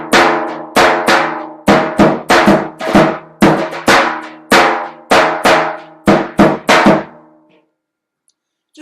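A tapan drum pattern of resonant, ringing hits in a syncopated groove, louder strokes mixed with quicker lighter ghost notes, then fading into silence.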